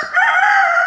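Chicken on a farm in Spain giving a single loud, close, sustained call lasting about a second, with no voices.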